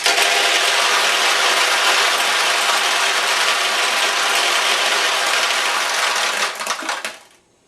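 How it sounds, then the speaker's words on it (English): A dense, loud metallic clatter of pachinko balls pours continuously out of a Sankyo pachinko machine's ball drain, rattling steadily for several seconds before thinning out and stopping. "and when we do, you're going to hear them all start to come out."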